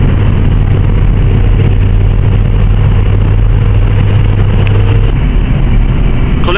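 An Opel Astra G running steadily with a constant low engine drone and hum, loud and even throughout, with a slight change in tone near the end and no voices.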